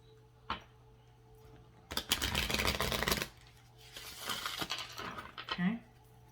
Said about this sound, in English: we're just going to go ahead and reshuffle these as well.